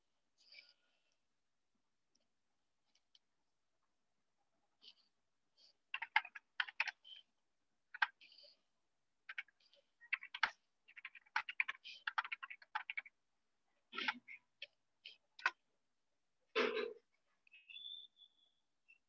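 Scattered keystrokes on a computer keyboard during data entry tap in irregular clusters, soft and close, with long pauses between short flurries of typing in a quiet room.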